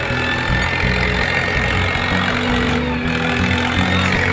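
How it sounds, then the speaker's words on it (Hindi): A tractor engine runs while the machine sits stuck in the water of the Kunjara river, a loud, steady low idle with a throbbing pulse close by. "पानी में ट्रैक्टर फंस गया और इसको निकालना जरूरी है"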